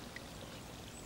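Water pours out of a pressed special forces base camp water filter in a soft, faint, steady trickle lasting about a second, with no voices.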